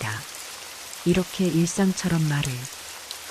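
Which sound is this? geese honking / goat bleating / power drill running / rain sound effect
rain sound effect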